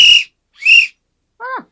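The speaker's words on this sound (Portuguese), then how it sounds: "Atenção pro apito." Three short, bright whistle blasts sound close and loud in the Frankenstein film: two high toots with a slight upward bend, then a lower, softer one that swoops downward, each separated by brief silence.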